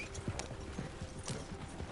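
Horse hooves clip-clopping as a horse arrives in Red Dead Redemption 2 Online, a steady trotting rhythm of soft thuds, fairly quiet, with no talk over it.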